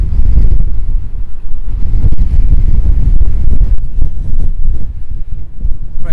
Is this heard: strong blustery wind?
yes